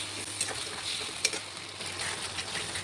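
Spinach paste for palak paneer frying in a pan, a steady soft sizzle running throughout with a few faint clinks of stirring, close by and without talk.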